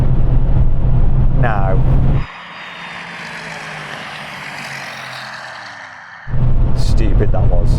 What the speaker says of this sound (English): I'm changing gear by pressing a button forwards on the steering wheel rather than pulling a paddle